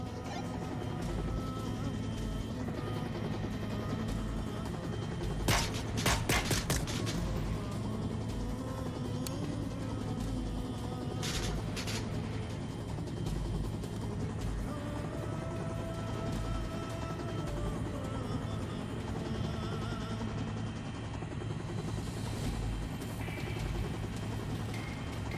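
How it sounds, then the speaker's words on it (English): In the VR shooter Onward, a helicopter arriving for extraction gives off a steady low rotor drone under sharp bursts of distant gunfire and impacts, continuous for the whole stretch. "I see the chopper."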